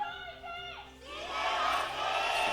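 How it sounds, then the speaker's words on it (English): Fans of the CJ Entus team cheer in an esports arena at a League of Legends Champions Korea match against the Rox Tigers, a crowd roar that swells from faint to loud and sustained, with a commentator's voice fading out under it. "You can hear the CJ fans coming out to cheer on their team."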